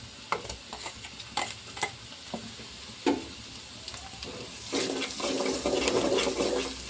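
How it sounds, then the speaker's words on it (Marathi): Onion with crushed ginger, garlic and cumin frying in a pan for an egg curry, with sharp scraping stir strokes and clinks, then a louder, steady sizzle building over the last two seconds. "अद्रक लसूण हलवून घेऊ आपण"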